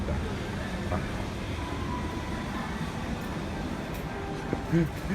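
A Bangkok Yellow Line electric train running, heard as a steady wash of rolling rail noise and rumble, with a few faint clicks and thumps near the end.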